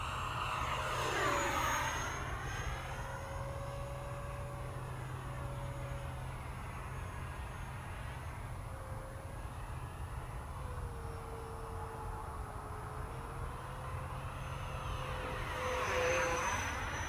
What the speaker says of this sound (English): Afterburners now.